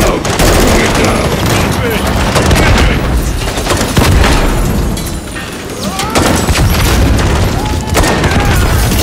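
Heavy gunfire aimed at a helicopter in Call of Duty Modern Warfare 3: loud, sustained volleys with booming impacts rattle on and on, while voices shout beneath the barrage.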